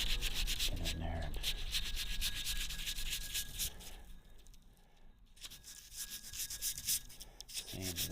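Sandpaper of 320 grit scrubs corrosion off a vintage Sears Allstate motorcycle hub, a close, rhythmic rasping rub with short pauses and brief strokes.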